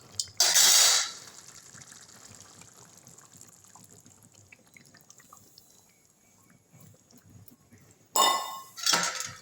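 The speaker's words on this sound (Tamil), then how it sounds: "அடுத்து இந்த தேங்காய் பாலையும் ஊற்றிடலாம்." Coconut milk is poured into a pot of fenugreek leaf and drumstick tamarind curry in two short, splashy pours, one at the start and one near the end, separated by a quiet stretch with faint clinks.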